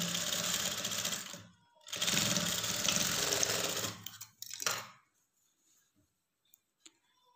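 A sewing machine stitches a lined blouse in two loud, steady runs of rapid mechanical chatter, followed by a short burst and then near silence with a few faint ticks.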